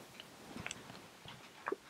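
Someone chewing a plant-based slider burger with barbecue sauce and a crunchy onion ring: quiet close-up bites and crunchy mastication, a few soft irregular chews with a sharper crunch near the end.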